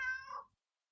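A single short cat meow, close and fairly quiet, fading out quickly into silence.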